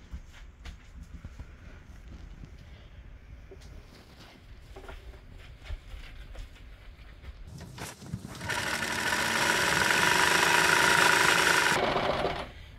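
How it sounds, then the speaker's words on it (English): Fabric edges run through a serger stitching sewing machine, first a quieter stop-start clatter of handling and short bursts, then a loud, steady, close whir for several seconds before it stops. "I'm also being really careful to guide my fabric through the serger, not pull it through"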